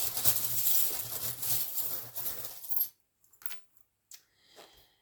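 Small trinkets are picked up and handled for a card reading, giving a close run of jangling, clinking rattles that stops abruptly, leaving a few faint scattered clicks and taps.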